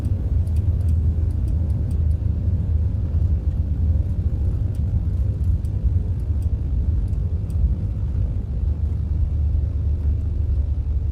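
Simulated BN2 Islander aircraft touching down roughly and rolling along the runway, a steady loud engine drone and low rumble throughout with faint clicking ticks above it, no talking.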